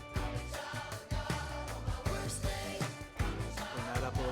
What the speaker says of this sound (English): And the loop is just like a clapping sound that they have throughout this,